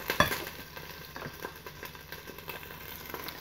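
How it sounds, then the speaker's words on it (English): Cross-cut beef shank sears in a Ninja Foodi with a steady, close hiss of frying fat, opening with a brief clatter before settling into an even sizzle. "These are just seared on each side. Got a nice sear going on there."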